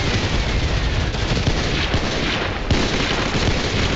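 A chemical grenade blast in the Roblox game Scorched Earth lands amid dense, continuous game combat noise, with heavy booming and gunfire-like crackle filling the whole few seconds.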